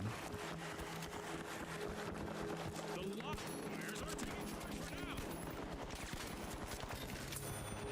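Rapid, dense gunfire from Overwatch 2 runs continuously, with clattering bursts and overlapping shots in a busy competitive match, under a steady bed of game noise.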